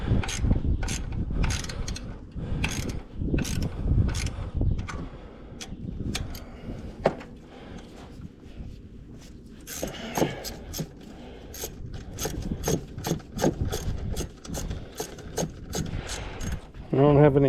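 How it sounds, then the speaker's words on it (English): A ratchet and socket clicks in quick bursts of rhythmic ratcheting while tightening coil pack bolts on a 2014 Scion xB engine, close up, with some talk in between. "so I'm still using the old ratchet and socket"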